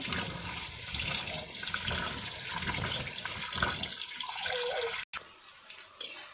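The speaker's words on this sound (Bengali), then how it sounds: "এই যে এটা পোলোয়ার চাউলটা আমি ধুয়া নেই" Rice for pulao is washed under running water, a continuous rushing, splashing stream from a tap that eases off toward the end.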